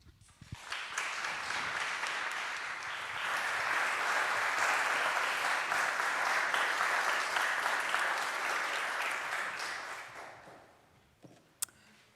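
Audience applause welcoming a lecturer at the 2024 H.L.A. Hart Memorial Lecture, a dense hall-wide clapping that swells over several seconds, holds steady, then fades out near the end.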